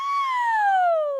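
A singer's voice imitates a siren as a warm-up, a single soft sustained "woo" gliding smoothly downward in pitch over about a second, clear and close.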